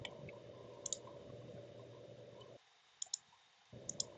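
A computer mouse clicks while the pick line tool is used in Revit architectural software: three quick double clicks, crisp but quiet, over a low background hum.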